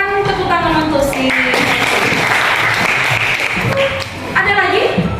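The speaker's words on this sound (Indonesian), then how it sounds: "silakan tepuk tangan untuk si" Classroom applause from students during a lesson, a dense steady patter of hands filling the room, with voices talking over it at the start and end.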